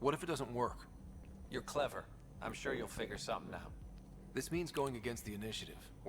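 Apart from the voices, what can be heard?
No everyday noise stands out behind the speech.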